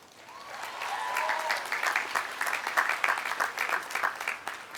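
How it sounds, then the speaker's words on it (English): A commencement crowd at a College of Business ceremony breaks into applause that swells over the first second and holds as a full, sustained clatter of many hands, with a brief tone sounding early on. "give yourselves a round of applause"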